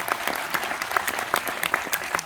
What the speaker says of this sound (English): going to be applause for that.